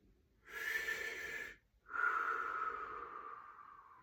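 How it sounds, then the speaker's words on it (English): Two long, breathy mouth exhalations during a guided breathing exercise in a class, each lasting about a second or more with a brief pause between them, close and fairly loud, with no talking over them. "Let's take a few mouth breaths."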